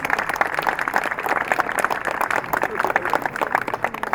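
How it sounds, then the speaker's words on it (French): An audience at a commemoration honoring Second World War victims applauds in a steady, crowded patter of many hands, moderately loud and continuous. "On peut les applaudir, hein, franchement."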